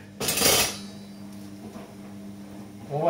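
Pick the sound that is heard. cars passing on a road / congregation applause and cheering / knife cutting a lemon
knife cutting a lemon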